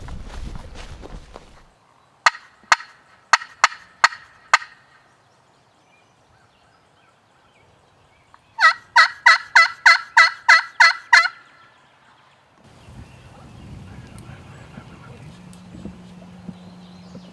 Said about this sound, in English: They gobbled right down there.